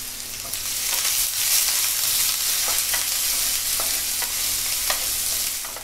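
Onion thrown onto chili, cumin, asafoetida and curry leaves in hot oil sizzles and crackles steadily in a pan, with scattered pops and stirring scrapes close by.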